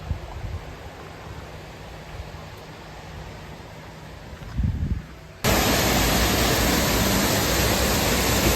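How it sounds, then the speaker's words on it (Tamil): A river near the Thirumalai Nambi temple at Thirukurungudi rushes over sharp stones in a steady broadband hiss that jumps sharply louder midway and stays close and roaring, with no voices. "இந்த ஆற்றோட சவுண்டு கேட்குதா?"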